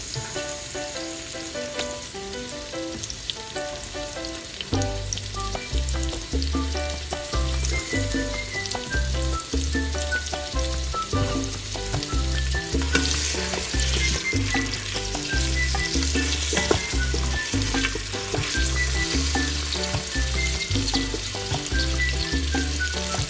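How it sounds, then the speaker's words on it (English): Steady sizzling of onions frying in oil runs under background music with a low, pulsing beat, continuous and moderately loud throughout. "Our onions have now been frying for about 3 minutes until they're translucent"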